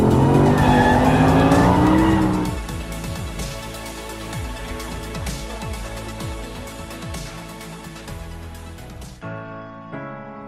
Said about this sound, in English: does it drift? Well, in a word, yes.